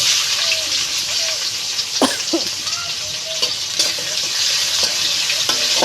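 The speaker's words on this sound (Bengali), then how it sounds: "পেঁয়াজটাকে ভালো করে ভেজে নিতে হবে।" Onions frying in hot oil in a wok for a puti fish curry, making a loud steady sizzle broken by scraping strokes of a stirring spatula, with no one speaking.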